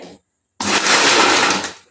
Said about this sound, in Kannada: ಇದನ್ನು ನಾನು ಮಿಕ್ಸಿ ಮಾಡ್ಕೊಬರ್ತೀನಿ.